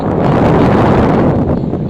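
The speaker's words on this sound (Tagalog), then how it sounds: "Malamig na yung aircon. Maayos na yung takbo ng mga fan." Rear air conditioner blower fans of a Toyota Revo, freshly cleaned with a repaired motor, run with a steady, loud, close broadband whoosh for the whole stretch, without pauses.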